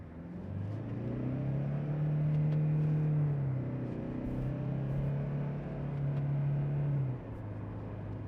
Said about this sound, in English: let's jump in and take a drive around in the brand new 2024 Land Cruiser Prado